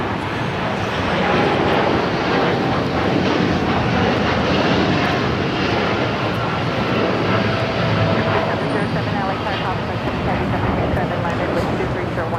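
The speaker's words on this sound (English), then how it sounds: "The 787-10 Dreamliner taking off to Tokyo Haneda, flight 39 with United Airlines" A United Airlines Boeing 787-10 Dreamliner, flight 39 to Tokyo Haneda, takes off at Los Angeles LAX, producing a loud, continuous, even engine roar that fills the whole stretch.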